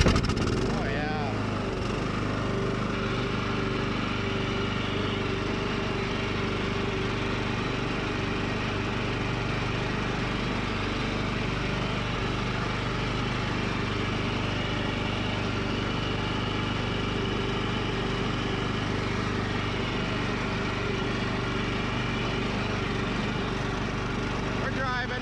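A Cub Cadet riding lawn mower engine runs steadily while the machine drives along, giving a loud, continuous low drone with no letup.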